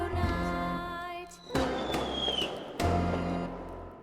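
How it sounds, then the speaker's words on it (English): Fireworks burst on Bonfire Night in two loud, sharp bangs with crackling tails, and a rising whistle streaks between them over a sustained musical backdrop. "And that's why we light fireworks tonight."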